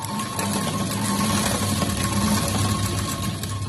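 A sewing machine runs steadily, stitching piping for a blouse, with a close, continuous whirring hum and a fast mechanical needle rhythm throughout.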